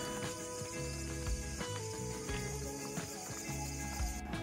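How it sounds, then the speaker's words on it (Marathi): Crickets chirp at night beside Bhandardara lake, a steady, dense insect drone that holds loud and unbroken under a low background rumble, with no talking. "सगळ्या रातकिड्यांचा आवाज येतोय"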